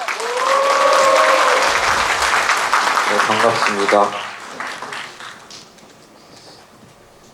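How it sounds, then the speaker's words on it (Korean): A crowd at a lecture gives loud applause and cheers as a research institute director is welcomed, with raised voices at the start. The clapping fades out over several seconds while a man briefly greets them. "우리 이희엽 소장님을 힘찬 박수와 함성으로 모시도록 하겠습니다"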